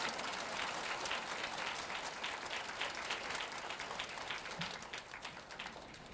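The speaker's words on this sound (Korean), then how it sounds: "박수 한번 치세요." An audience applauds during a Catholic priest's lecture at a church retreat. The dense, sustained clapping holds steady and eases slightly toward the end.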